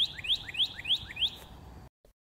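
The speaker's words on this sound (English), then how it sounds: "bird," A small songbird chirps in a quick series of five bright, rising tweets over a soft noisy background, then cuts to near silence with one faint blip at the end.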